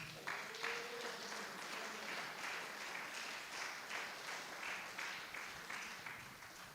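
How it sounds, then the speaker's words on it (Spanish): A church congregation claps for God after a sermon, steady, fairly faint applause from many hands filling the space, with no speech over it. "Dele un fuerte aplauso a nuestro Padre."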